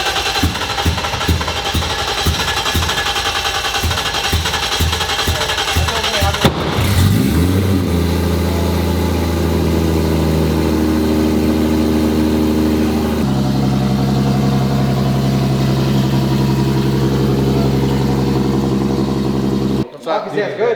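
Engine of a Nissan S13 with an all-wheel-drive conversion fires up for the first time and settles into a steady, loud idle, with rapid rhythmic pulsing at first and then a rough continuous drone, voices talking faintly over it.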